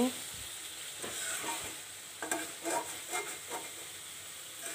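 Meat being stirred and fried in its own released oil in a pot, a continuous soft sizzle broken by several irregular scraping stirs of the spoon, fairly close with no speech.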